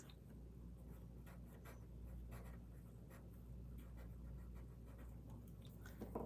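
Graphite blended on paper with a tortillon, a soft continuous rubbing and scratching that sweeps in short strokes, close and quiet against a steady low hum, with no voices.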